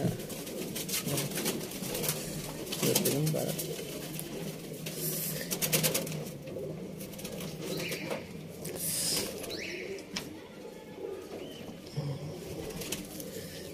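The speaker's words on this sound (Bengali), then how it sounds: "সাপকা মাদি দেখাচ্ছি, খুব ভালো পায়রা," Female Sapka pigeons coo in a loft, a steady murmur of low, overlapping calls with light shuffling and no talk.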